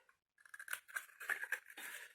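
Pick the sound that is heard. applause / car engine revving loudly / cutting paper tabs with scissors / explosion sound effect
cutting paper tabs with scissors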